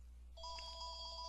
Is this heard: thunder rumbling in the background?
no